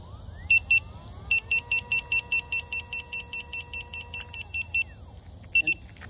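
A new Begode A2 electric unicycle is lifted so its wheel spins freely, its motor whining up and down under a rapid series of loud, evenly spaced alarm beeps, close by.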